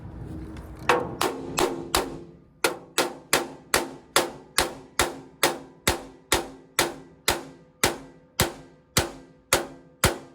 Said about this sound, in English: I'll get my hammer.